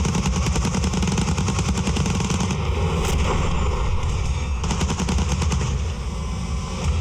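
Rapid bursts of automatic gunfire from a prop weapon on a film set, loud and continuous with dense repeated shots through the whole stretch and a brief lull partway.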